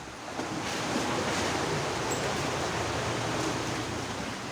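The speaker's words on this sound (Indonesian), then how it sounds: "Terjangan ombak di kawasan Kelandasan Ulu Balikpapan ini menyebabkan beberapa rumah rusak" Heavy surf roars steadily on the shore at Kelandasan Ulu, Balikpapan, a dense continuous wash of crashing waves close by with no voices.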